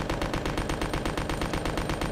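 Continuous rapid submachine gun fire in Resident Evil Code Veronica X, a dense, even stream of loud shots running unbroken for about two seconds.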